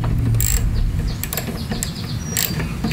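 A small quarter-inch drive ratchet clicks in short bursts while tightening the carburetor bowl on a Briggs 190cc lawnmower engine, close and crisp over a steady low background hum.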